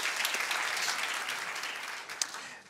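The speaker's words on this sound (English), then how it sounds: "It's worth a round of applause, I think." An audience at a CEO panel gives a steady round of applause that gradually tapers off near the end. Sounds like a moderate-sized room, with no clear talking over it.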